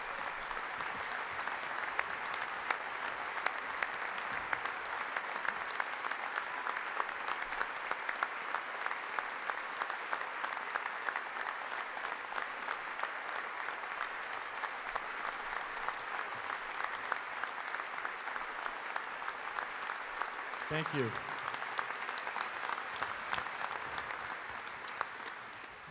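Steady applause from an audience at an award presentation for the Walter Camp Football Foundation Man of the Year, continuous clapping that swells briefly near the end, with a short spoken thanks over it.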